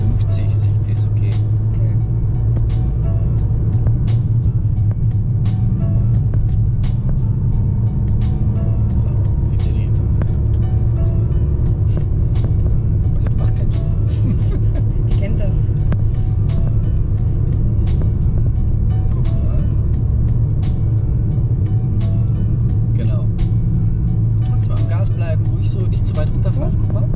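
Car engine steadily pulling and accelerating during a driving lesson, a continuous low hum inside the cabin throughout, with talking over it.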